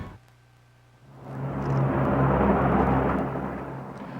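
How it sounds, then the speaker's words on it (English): A vintage World War II B-17 bomber passes overhead above Albuquerque, its broad engine drone swelling from quiet to a loud, sustained roar that holds steady before easing slightly. "A sight and sound from World War II flying over Albuquerque today."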